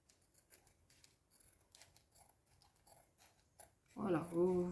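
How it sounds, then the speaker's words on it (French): Snipping of scissors through cardboard for a recycled-cardboard Christmas tree craft: faint scattered cuts, then a louder close burst of crisp cutting near the end. "je vais fignoler au ciseau maintenant"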